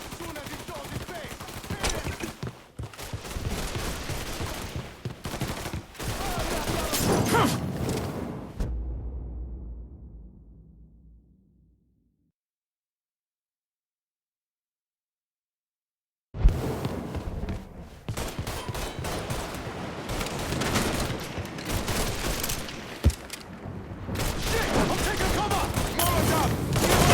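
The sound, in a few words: gunfire in the video game Mafia 3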